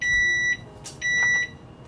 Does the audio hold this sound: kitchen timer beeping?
yes